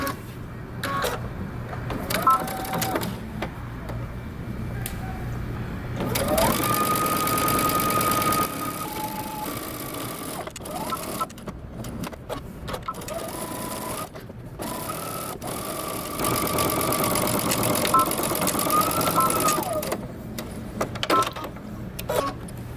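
A sewing machine back stitches a seam with a 3/8-inch allowance, running in several loud bursts of steady whirring separated by short pauses and handling noises, with no talking.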